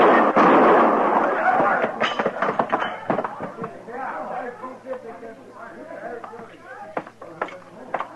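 A loud, booming gunshot with a rumbling tail opens a radio Western drama scene, followed by overlapping voices talking tensely.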